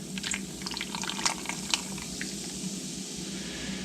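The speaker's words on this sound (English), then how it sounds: "Just take this and pour it right in here." Liquid poured into a crockpot for a Cheerwine ham, a steady soft gurgling splash under a low background hum, with a few light clinks.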